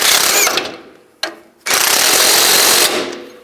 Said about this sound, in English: I can use a 24mm wrench, an 18mm socket, snug this up